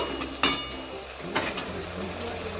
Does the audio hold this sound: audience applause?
no